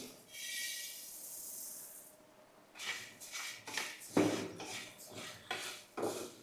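Coriander seeds dry-roasting in a pan for a garam masala blend: a quiet hiss at first, then intermittent scraping and rattling bursts as the seeds are stirred, faint and close.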